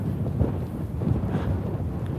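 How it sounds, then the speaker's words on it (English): Strong night wind blows outdoors near a boat area, buffeting the microphone with a continuous low rumbling roar that swells and eases slightly, with no voices. "the wind is picking up"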